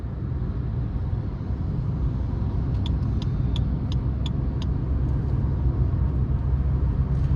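A fast car closing in from behind on the road while driving a 2026 Maruti Suzuki Fronx, heard as a steady, loud road and engine rumble throughout, with brief high chirps midway.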